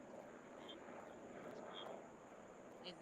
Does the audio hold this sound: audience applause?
no